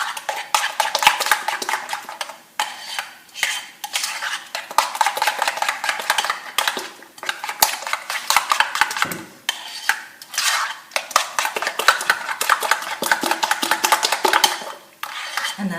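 Cream cheese filling for a braided cheese danish whisked briskly in a bowl, a steady busy run of utensil scraping and clinking against the bowl, fairly close and continuous with brief pauses, no talking.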